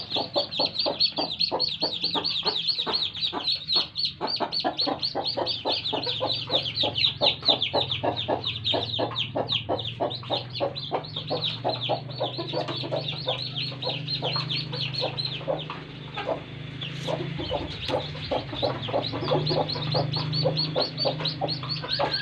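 Domestic chickens cluck steadily and rapidly as a hen lays eggs among a flock of about ten birds, the pulsing calls close and continuous with a low hum beneath, and no talking.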